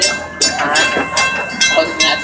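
The Gatorland Express, a small tourist train at a Florida park, rattles and clacks along its track with rhythmic wheel clicks while someone talks loudly over it close by.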